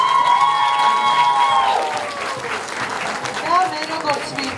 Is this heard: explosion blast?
no